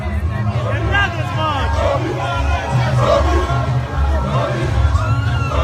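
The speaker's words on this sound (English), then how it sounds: "Controlling the crowd here is a very big question" A large crowd roars at a political rally in Michael Okpara Square, Enugu, with loud sustained cheering, whoops and yells close by and all around, plus overlapping shouted voices.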